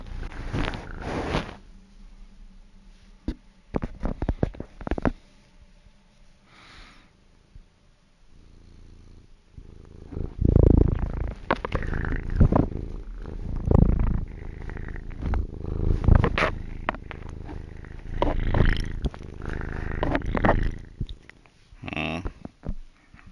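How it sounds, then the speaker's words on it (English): Cat purring right against a headset microphone, a close, loud rumbling purr broken by bumps and rustles, coming in uneven waves. "Cat booped the headset."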